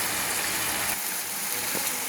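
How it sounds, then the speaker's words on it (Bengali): Water poured into frying masala in a pan for a Bengali fish curry, a loud rushing splash and hiss that settles into a steady bubbling sizzle. "এবার আমি মশলাতে জল ঢেলে দিলাম।"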